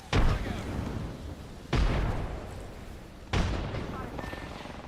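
Three heavy explosions in Apex Legends, evenly spaced, each a sharp loud boom that decays into a rumbling tail, consistent with frag grenades detonating during a match.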